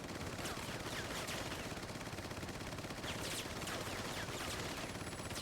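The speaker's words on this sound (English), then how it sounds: "They really use the SMG a lot in a lot of these cutscene and script things" SMG fire in a Resident Evil 4 cutscene, a continuous rattling stream of rapid shots with a few louder bursts standing out over dense background noise, moderately quiet.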